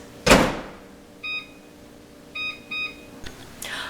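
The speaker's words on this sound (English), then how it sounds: "now we're going to put them in the microwave" A microwave oven heating stuffed bell peppers gives a sharp click, then several short electronic beeps in spaced pairs over a low steady hum.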